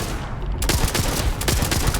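A weapon firing in the Starfield video game, a burst of close, loud shots in quick but uneven succession over a constant background noise.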